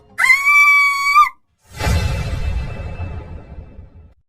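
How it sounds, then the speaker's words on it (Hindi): A woman's long, piercing scream for a horror story, loud and close, cut off abruptly, followed by a crashing, shattering burst that decays over a couple of seconds. "कहते हुए मिताली जोरों से चीखने लगी।"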